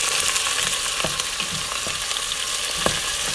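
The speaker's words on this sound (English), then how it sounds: "So I'm getting my onion in there. Get it nice and sauteed up." Onion sautés in a hot pan with a dense, steady sizzle, punctuated by occasional stirring clicks and scrapes, close up and without talk.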